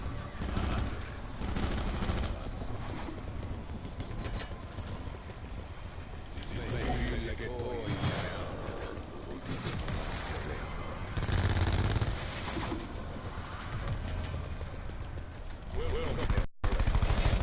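Continuous dense gunfire and clatter of shooting in a video game, loud and busy throughout with overlapping shots and a voice talking over the action.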